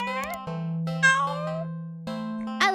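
A human voice imitates a cat's meow, giving a series of drawn-out, pitch-bending tonal mews, fairly loud and close, with short breaks between calls.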